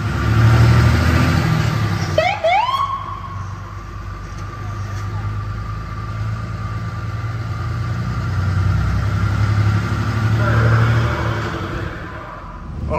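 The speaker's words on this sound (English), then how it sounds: "I think this is a beautiful car. Beautiful sound." A car engine idles and runs steadily nearby, with a brief rev near the start and a low continuous rumble throughout while people talk over it.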